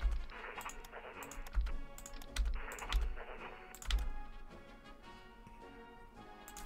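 Rapid typing on a computer keyboard, bursts of sharp key clicks with heavier thumps, close and busy, easing into lighter tapping toward the end.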